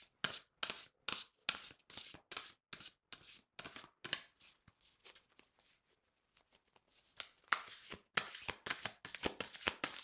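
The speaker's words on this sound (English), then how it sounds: "I will shuffle 3 more times" Oracle cards are shuffled in quick rhythmic bursts of crisp riffling, close and clear, pausing briefly midway before resuming.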